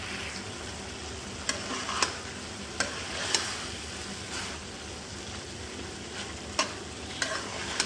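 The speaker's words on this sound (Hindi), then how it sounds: "अब इसको अच्छे से मिक्स कर लूँगी" Spices being stirred into a bread roll filling of chicken, vegetables and macaroni, a steady soft scraping and stirring with a low sizzle beneath and a few sharp spoon taps against the pan.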